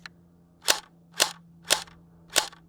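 Four sharp shots from a $50 airsoft M4 rifle ring out at a steady pace about half a second apart, each a crisp snap over a faint electrical hum.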